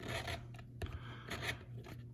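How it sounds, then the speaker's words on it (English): A sanding block is rubbed and rolled over a rubber model road wheel to remove the mold seam, giving quiet, close scratchy rasps in short repeated strokes. "What I do is I take my sanding block, finger over the top like that"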